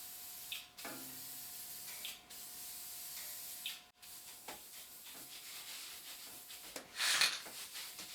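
Spray paint going onto the front of a fridge in several hissing bursts of a few seconds each, separated by short pauses and faint rattles, close and fairly quiet.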